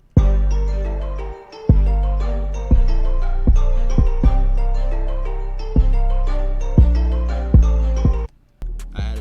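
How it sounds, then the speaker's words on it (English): Deep layered kick drum in a hip-hop trap beat, hitting in a repeating pattern of heavy booming thumps with long sustained low tails under a melodic loop, loud and close with no voices. "Next, I layered it with this kick."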